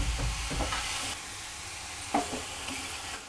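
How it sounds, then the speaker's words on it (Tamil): Carrots for carrot halwa sauté in a pan with a soft, steady sizzle, broken by a few brief scraping stirs from a spoon, fairly quiet and close, with no talk. "பச்சை வாசனை போகிற அளவுக்கு நல்லா வதக்கி விட்டுக்கோங்க."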